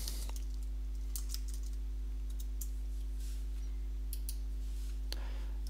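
Quiet, irregular key clicks and taps on a computer keyboard while entering a command in a Bloomberg terminal, sitting over a constant low electrical hum, with a few slightly louder clusters of presses.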